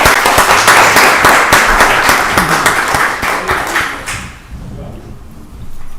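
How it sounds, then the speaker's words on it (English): Audience applause rings out at a Rockdale County Board of Commissioners voting session, a loud, dense patter of many hands with a few voices that fades out after about four seconds, leaving quiet room tone. "Give them another round of applause."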